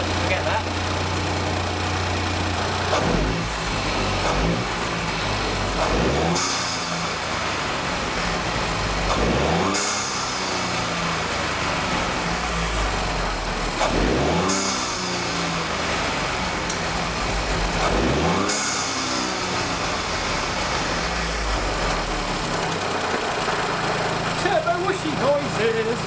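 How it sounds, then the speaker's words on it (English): The turbocharged engine of a boosted Mini revs repeatedly from idle, each rise carrying a turbo whoosh that sweeps up and falls away, heard up close in a rhythmic series. "Turbo wooshy noises, turbo wooshy noise."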